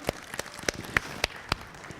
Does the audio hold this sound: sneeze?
no